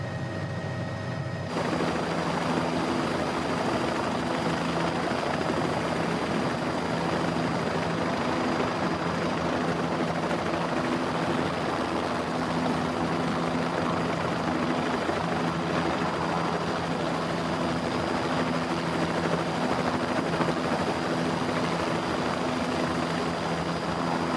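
Bell 206 L3 LongRanger helicopter engine and rotor in a flight simulator, a loud steady turbine whine with continuous rotor drone running throughout, close and unbroken, no talking over it.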